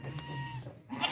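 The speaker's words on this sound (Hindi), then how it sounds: "बहुत ही अच्छी क्वालिटी का बकरा है ये वाला" A single drawn-out bleat from a goat at a livestock market, close and fairly loud, wavering before fading out.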